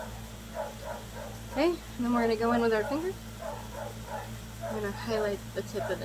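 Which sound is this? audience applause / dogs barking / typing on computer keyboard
dogs barking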